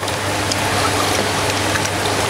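Tilapia eggs being washed in water, a steady close wash of splashing and trickling that runs evenly throughout with no voices.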